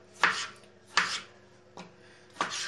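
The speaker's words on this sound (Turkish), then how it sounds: "Domateslerimizi küçük küçük doğrayalım." Tomatoes are chopped into small pieces on a board, four crisp knife strokes spaced unevenly, close and clear against a quiet kitchen.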